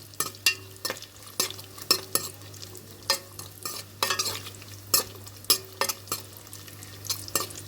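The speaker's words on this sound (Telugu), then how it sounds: "అదే నేతిలో మనం ఇందాక తురుము పెట్టుకున్నాం కదా, సొరకాయని వేసేసుకుందాం" Grated bottle gourd frying in hot ghee while being stirred, with a steady sizzle and brisk, rhythmic scrapes and taps of the spoon against the pan, close and clear.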